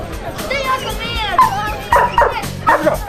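A dog barks sharply several times during a protection training exercise at a Slovenian dog-training club demonstration as a decoy rushes out and the handler releases it, with people talking and children's voices in the background.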